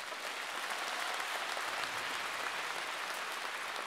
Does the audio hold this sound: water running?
no